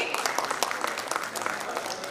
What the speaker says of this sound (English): A huge round of applause for GIA.